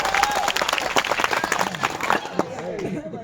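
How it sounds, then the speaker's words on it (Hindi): A crowd at a Hindi comic poetry recital breaks into loud, dense clapping that thins toward the end, with a voice audible over it. "बजाओ ताली"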